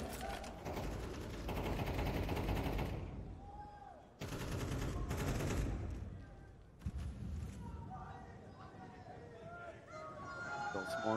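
Rapid bursts of automatic gunfire from a Counter-Strike match at IEM Dallas 2024, loud volleys broken by short gaps, with excited casting voices running underneath.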